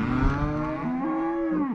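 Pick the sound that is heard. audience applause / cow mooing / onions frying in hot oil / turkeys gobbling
cow mooing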